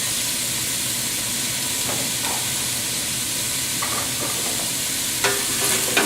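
Cubed butternut squash and cooked white beans stirred in hot oil, a dense continuous sizzle and hiss with occasional scraping strokes, close and steady throughout.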